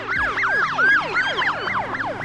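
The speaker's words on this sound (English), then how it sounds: "the Doppler effect of a siren passing you." An emergency siren wails in rapid repeating up-and-down sweeps as it passes by, loud and close, with traffic rumble underneath.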